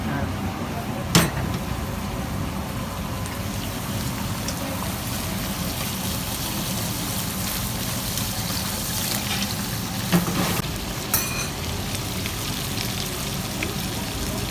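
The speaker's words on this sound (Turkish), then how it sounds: "patlıcanın şöyle karamelize olması çok çok çok önemli" Eggplant frying in a pan as it caramelizes, giving a steady close crackling hiss with a few sharper pops, no talk over it.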